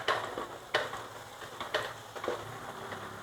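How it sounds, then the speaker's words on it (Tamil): Chopped onion and garlic sauté in a pan for white sauce pasta, giving a faint, steady sizzle broken by a few light clicks and taps of a spatula against the pan, close-up, with no one speaking. "வெங்காயம் வதங்கட்டும்."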